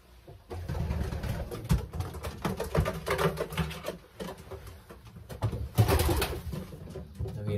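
Pigeons cooing inside a pigeon loft, soft overlapping coos with rustling and fluttering, close and continuous at low volume.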